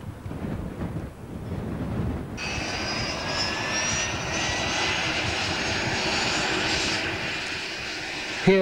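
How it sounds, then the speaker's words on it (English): An offshore helicopter on a helideck runs its engine, a steady loud roar with a high turbine whine that rises partway through and holds as a continuous drone. "Here, the lads are just getting a chopper ready to leave."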